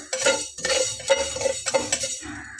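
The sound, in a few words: stirring and frying mustard in a pan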